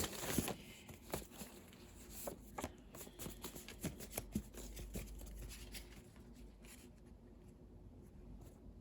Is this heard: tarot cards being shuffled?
yes